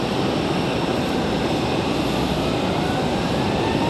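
United Airlines 737 jet departing from Raleigh-Durham, a brief steady roar of jet engines, loud and unbroken, with no voices.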